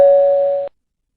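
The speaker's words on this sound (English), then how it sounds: "He pressed the bell." A doorbell at a very old house, rung at night, gives a single loud, steady electronic tone lasting under a second before stopping abruptly into silence.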